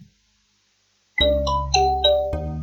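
A phone's SMS notification tone for an incoming Google verification code: a bright, multi-note chime that rings out loud and clear after a stretch of silence, with no voices.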